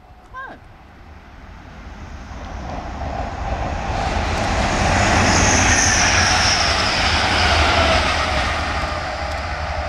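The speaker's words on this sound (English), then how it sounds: "It's a Grand Central train going to Sunderland." A Grand Central passenger train bound for Sunderland passes on a railway line, its rumble and rail noise swelling to a loud, sustained roar and then easing slightly, with a brief voice near the start.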